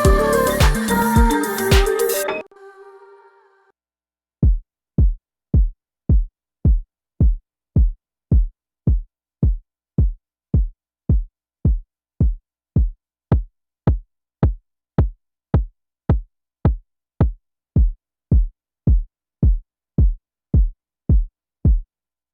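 After a brief burst of music, a punchy kick drum hits alone in an even, steady rhythm, each thump short, tight and clicky.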